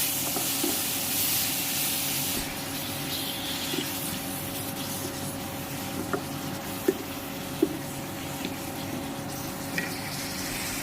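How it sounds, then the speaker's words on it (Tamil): Prawns sauté in a pan for pepper prawn masala, making a faint, steady sizzle with a few soft clicks of a spoon against the pan. "எறா போட்டு நல்லா வதக்கிக்கலாம்."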